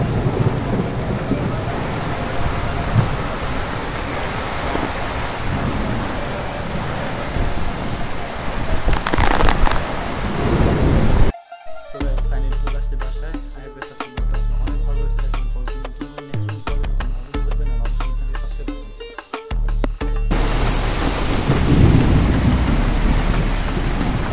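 Heavy rain pours down in a dense, loud hiss with rumbles of thunder, briefly interrupted midway by a muffled, lower-pitched stretch before the downpour returns.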